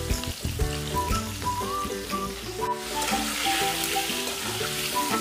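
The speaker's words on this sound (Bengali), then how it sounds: "এখন আমি এইভাবে সুন্দর করে নেড়েচেড়ে ভেজে নেব।" Diced potatoes with salt and a pinch of turmeric sizzle steadily in a pan as they are stirred, a constant close frying hiss beneath a layer of tonal sound.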